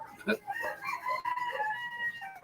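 A rooster crows nearby in a long, wavering call, with a brief clucking burst at the start and faint voices in the background.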